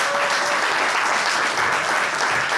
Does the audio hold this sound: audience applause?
yes